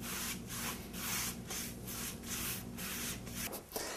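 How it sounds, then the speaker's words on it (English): Stain colour being rubbed and smeared by hand into a sheetrock wall, a steady close scratchy rubbing in repeated back-and-forth strokes, with a low hum underneath and no talking. "And I'll take those and rub them down. Smear them in, and it just gives a little color."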